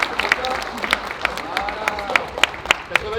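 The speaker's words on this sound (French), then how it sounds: "On peut les applaudir" Scattered audience applause at an outdoor heritage-day demonstration, individual sharp claps standing out irregularly over a murmur of crowd noise and some talking.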